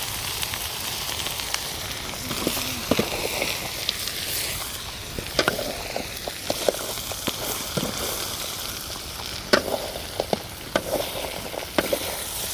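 Curry frying in a pan during village cooking, a steady crackling sizzle with scattered sharp pops and clicks from stirring, close and fairly loud with no speech.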